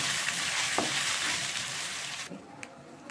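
Ginger garlic paste fries in oil for pepper chicken as it is stirred, a close, steady hiss and sizzle that suddenly drops to quiet near the end.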